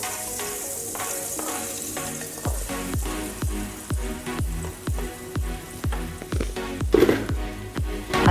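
Bread pieces frying in about three tablespoons of olive oil over medium flame, a loud continuous sizzle broken by regular stirring scrapes and knocks, close up.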